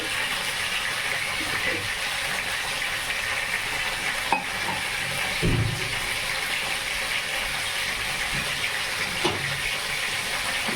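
Oil and chillies sizzle steadily in a hot kadai, a continuous close hiss of frying with a few brief clinks and stirring knocks and no talk.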